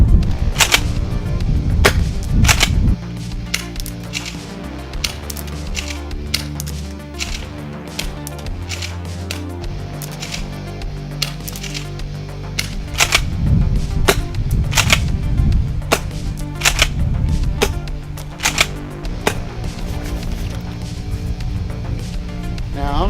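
A Tokyo Marui Kel-Tec KSG airsoft shotgun fires sharp snapping shots, sometimes in quick clusters and sometimes spaced apart, close and loud over a droning background.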